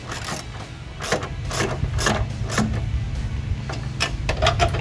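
A ratchet tightens bolts on a Jeep Wrangler TJ tailgate reinforcement bracket. It makes rapid, close clicking bursts in repeated strokes, each a short run of pawl ticks over a low background hum, with no talk.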